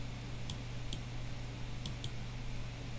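Mouse clicks while selecting the pen tool in Photoshop: four crisp, quiet clicks, two spaced apart and then a quick pair, over a low steady hum, with no talking.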